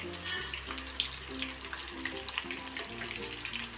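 Chicken pieces for chicken lollipop fry on a low flame, giving a steady, moderately loud hiss and bubbling crackle with no speech.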